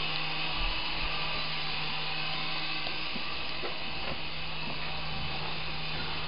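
A small camera drone flies inside an apartment, giving a steady, loud propeller whine and hum that holds evenly throughout with no pauses and no voices.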